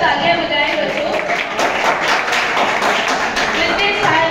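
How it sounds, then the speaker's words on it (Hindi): Schoolchildren applauding drawing competition winners at a school prize ceremony, loud sustained clapping with a voice speaking over it. "जोरदार तालियां बजाएं बच्चों"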